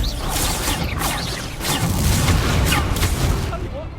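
Fiery Confringo blast spells explode in Hogwarts Legacy, a loud, continuous barrage of booming, crackling impacts that swell and overlap across the whole stretch with no pause.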